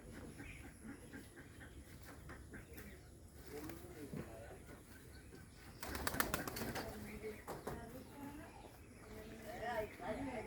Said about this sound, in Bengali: ওই যে ডাকতেছে কি সুন্দর, সুন্দর একটা কবুতর বোম্বাই